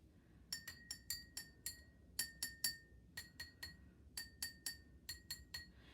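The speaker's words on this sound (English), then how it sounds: "the blue glass, which is filled with more water in comparison to yellow, is a higher pitched sound" Water-filled glasses are tapped in quick bright clinks, grouped in short runs of ringing pings at slightly different pitches, fuller glasses sounding higher, clear against a faint background hum.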